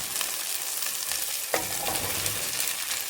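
Celery and onions sizzling in olive oil make a continuous close frying hiss, with one louder clatter as the vegetables are stirred partway through.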